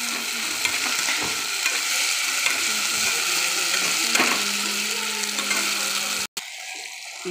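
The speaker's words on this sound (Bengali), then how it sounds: "পেঁয়াজ আদা রসুনের পেস্টটা বন্ধুরা ভাজা হয়ে গেছে" Ginger, onion and garlic paste frying in a pan, with a continuous close sizzle and scraping stirring strokes, briefly cut off near the end.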